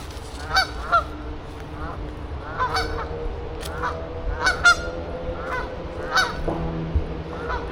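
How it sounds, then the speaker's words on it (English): Geese honk repeatedly in short, scattered calls, moderately near, over a steady outdoor background hum. "Honking geese."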